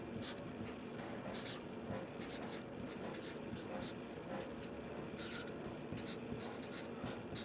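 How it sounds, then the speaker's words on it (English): Marker or pen writing out an algebra problem on a board, a steady run of soft scratchy strokes in short bursts under a constant background hum. "I'm going to write the original problem"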